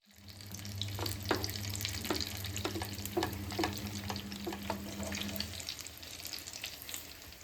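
Bread slices coated with vegetables frying in oil, a soft steady sizzle with bursts of crackling and spatter, close but fairly quiet, under a low hum that stops partway through.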